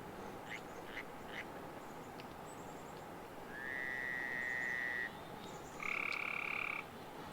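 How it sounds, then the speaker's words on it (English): Frogs croak in an ambient soundscape from an Unreal Engine game demo, a few short pulsing calls followed by two longer, steady trilling croaks over a faint hissing background. "that has frogs in it. So as I walk to this, you can hear frogs around there."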